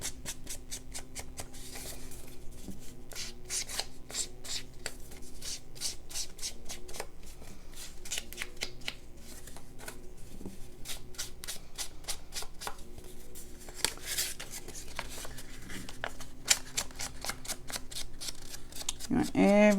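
Paper envelope edges are distressed by hand with rapid, scratchy rasping strokes in dense bursts, close and soft, with brief pauses and quiet talk in between.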